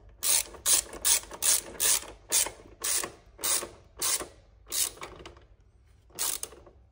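Ratchet wrench clicking as it tightens 13 and 14 mm nuts on the shock absorber of a CRZ ERZ Pro 250/300cc motocross bike: about ten close, crisp bursts of rapid ratcheting in a steady rhythm, with short pauses between.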